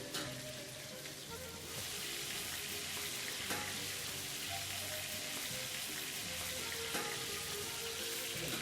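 Steady, dense sizzling of meat frying in a hot pan for Ankara tava, crackling evenly throughout at moderate volume with no voices.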